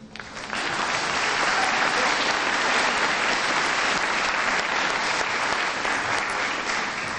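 Audience applause at a school promotion ceremony, a dense sustained clapping from a large crowd that starts abruptly and continues steadily and loudly throughout.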